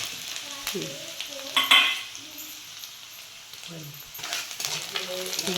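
Cumin and mustard seeds frying in hot oil in a village kitchen while brinjal is prepared, a soft steady sizzle with stirring clatter and a brief sharp metallic scrape, faint voices talking over it.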